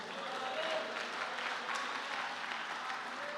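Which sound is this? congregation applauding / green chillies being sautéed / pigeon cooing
congregation applauding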